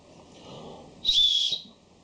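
A small whistle built into a BL-W5147 carabiner flashlight gives one short, shrill, steady blast lasting about half a second, close and fairly loud, after a soft breathy lead-in.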